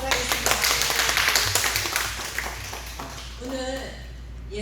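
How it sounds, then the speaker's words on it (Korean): Church congregation clapping in rhythm at the start of a talk, a run of sharp, steady claps that thins out toward the end as voices come in. "박수로 시작하도록 하겠습니다."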